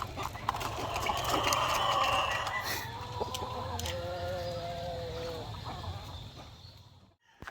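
White Leghorn hens cluck and cackle around a nest box where they lay eggs, a run of close, rhythmic clucks under light scratching and rustling, fading near the end.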